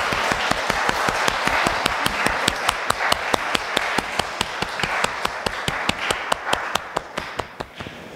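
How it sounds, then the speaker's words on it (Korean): A church congregation at a New Year's Eve service claps steadily for about eight seconds, a dense room-filling applause with sharp regular hand strikes that thins toward the end. "우리 다시 한번 박수 한번 할까요?"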